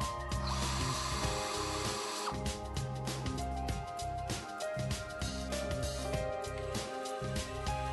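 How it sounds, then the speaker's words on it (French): Stainless steel screws driven through an aluminium F-profile into each joist of a Twinson composite terrace, a power driver whirring in repeated bursts with short pauses between screws, close and steady, with no talk. "installez le profilet F avec des vis en acier inox sur chaque lambourde"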